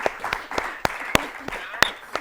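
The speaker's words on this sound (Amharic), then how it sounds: "እሺ አጨብጭቡላቸው።" Applause from a studio audience on a children's quiz show, a handful of separate sharp claps spaced unevenly over a couple of seconds, close and crisp rather than a full crowd roar.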